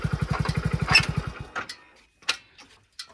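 A Hero Splendor or HF Deluxe motorcycle engine putters in a steady, rapid, close thumping rhythm, then cuts out abruptly, leaving a few faint clicks and knocks.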